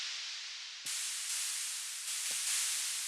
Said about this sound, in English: First thing I want to do is I want to add a bit of white noise.